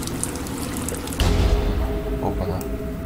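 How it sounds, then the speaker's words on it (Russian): Water pours and rushes into a room in the video game Break In, a steady dense roar that swells louder partway through, with game sounds over it. "а то скоро наполнится водой"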